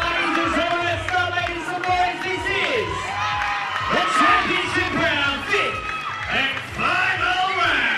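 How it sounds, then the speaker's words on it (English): A crowd at a women's 53.5kg fight roars and whoops continuously at close range, a dense layer of shouting and cheering with voices talking over it throughout. "The crowd are going crazy, John."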